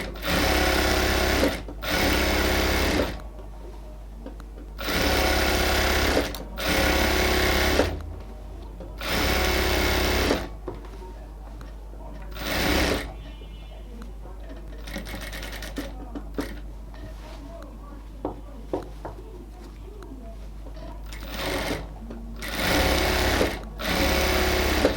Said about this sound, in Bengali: এটাকে আমরা এবার আরও একটা ডাবল সেলাই দিয়ে দেবো একদম পাশ দিয়ে